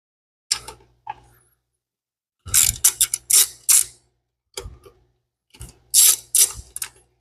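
Wrench ratcheting loosens bolts on an engine top ahead of an injector swap, in short bursts of rapid clicking separated by pauses, close and crisp.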